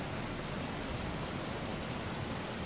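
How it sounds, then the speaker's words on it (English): A waterfall in the video game Risen 2: Dark Waters gives a constant, even rushing roar from start to end, with no voices. "Anything behind this waterfall?"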